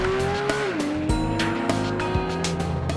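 A Porsche 911 GT3 accelerates under launch control, its engine note climbing in pitch then stepping through quick gear changes, loud and close with a hint of tire squeal and no talking.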